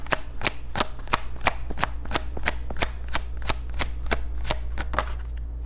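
Tarot cards are shuffled and riffled close up in a quick, even run of about fourteen crisp slaps over a low steady hum.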